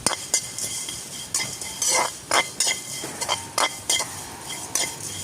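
Metal spoon clinks and scrapes against a pan as onion, green chili and curry leaves are stirred in, sharp repeated taps at an uneven rhythm over a faint background hiss, close and fairly loud, with no talking.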